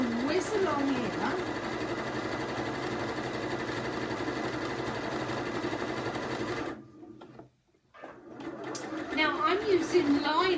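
A sewing machine stitches machine smocking along a fabric panel, a steady fast whirring run that stops briefly near the end before starting again, close and loud.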